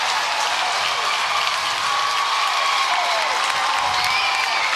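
A Little League World Series baseball crowd at the 2019 New Jersey vs Rhode Island game applauds a leadoff double, a dense, even wash of clapping that stays loud and constant throughout, with no talk over it.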